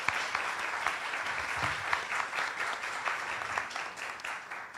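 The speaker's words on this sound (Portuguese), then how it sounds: "Peço a salva de palmas a todos." An audience gives sustained, steady applause for the competing teams at a tax moot court competition semifinal, many hands clapping densely and evenly at a moderate distance.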